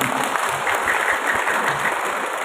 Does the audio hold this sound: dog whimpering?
no